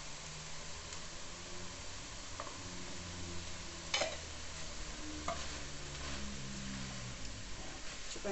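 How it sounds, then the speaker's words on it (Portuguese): Vegetables with turmeric and palm heart sauté in a pan, a steady close sizzle with scraping spoon strokes and occasional clinks against the pan as they are stirred, no one speaking. "A gente vai mexer bem."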